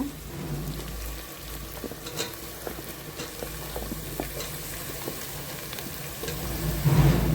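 Mushrooms going into a pan of frying onion and tomato for mushroom biryani, a steady close sizzle with scattered stirring scrapes and clicks, growing a little louder toward the end.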